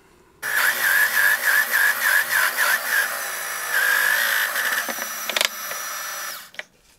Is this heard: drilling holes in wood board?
yes